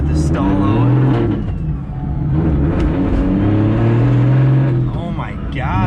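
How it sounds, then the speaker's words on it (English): A 750hp BMW 135i running on E85 pulls away under light throttle, its engine droning loud and steady from inside the cabin, with someone talking over it. "I'm barely even on the gas and this thing just is snappy."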